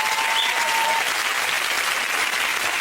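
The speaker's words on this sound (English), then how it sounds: "Give them a big round of applause for Short family" Studio audience of a Family Fortunes game show applauding the Short family, a dense, steady wash of clapping that stays loud and even throughout with no talking over it.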